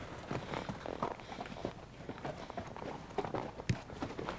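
Horses walk single file along a rocky mountain trail on a Wyoming fly-fishing trip, hooves clopping and scuffing in an uneven, quiet rhythm amid faint outdoor rustle.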